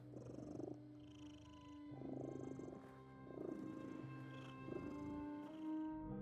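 A big cat in the video game The Midnight Walk purrs in a soft, rhythmic low rumble that swells and fades in pulses, faint and close, with quiet game ambience and no talking.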